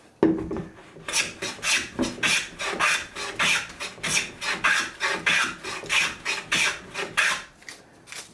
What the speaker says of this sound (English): Let's take a little bit off, make it the shaving slightly finer.